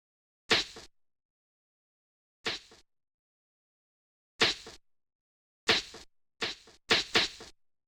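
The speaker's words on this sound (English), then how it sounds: "The next sound is the snare." Snare drum sample hits in a beat, sharp bright cracks spaced irregularly, sparse at first then clustering closer together near the end, heard alone with silence between.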